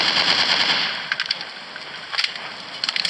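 Gunshots from the mobile sniper shooter game Wild Dinosaurs Sniper 3D crack in short, sharp bursts over a hissing background, spaced irregularly across the moment. No voices.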